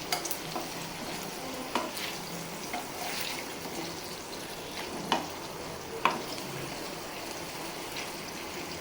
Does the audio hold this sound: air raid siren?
no